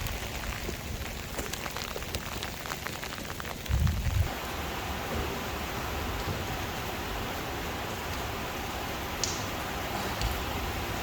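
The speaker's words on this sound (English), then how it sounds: "It's just starting to rain." Rain just starting during Oklahoma flash flooding falls steadily in a soft, even hiss on a surface, with one brief low thump partway through.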